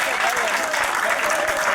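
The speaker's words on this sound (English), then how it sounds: "Nelson Mandela, please give him a round of applause." Audience applause at an Africa gala, a dense sustained clapping from a large crowd filling the hall, loud and even, with a voice speaking over it.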